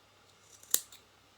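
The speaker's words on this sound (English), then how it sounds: "Now snip off the corners." A single crisp scissor snip through fabric as the corners of a sewn piece are clipped, short and close, with a couple of faint handling sounds before it and quiet afterwards.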